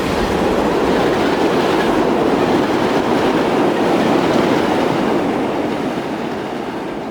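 A train in Transport Fever 2 rolls past loud and close with a continuous rushing rumble and clatter of wagons, fading slightly near the end as it moves away.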